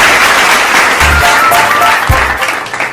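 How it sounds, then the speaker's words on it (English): Loud applause for a Philippine education secretary at a graduation ceremony, continuous sustained clapping with faint music or tones underneath and a low thump partway through. "A big round of applause,"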